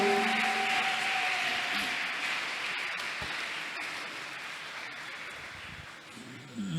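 A church congregation clapping steadily during a Sunday service, a sustained wash of applause that slowly fades a little toward the end.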